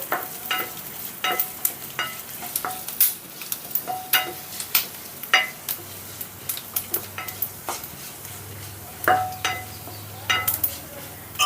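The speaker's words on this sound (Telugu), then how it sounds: "ఇప్పుడు ఈ ధనియాలని, మెంతుల్ని దోరగా వేయించుకుందాం." Coriander and fenugreek seeds dry-roasting in a pan, with scattered crackles and the scrape and clink of a spoon stirring against metal in irregular bursts, close and fairly clear with a faint low hum underneath.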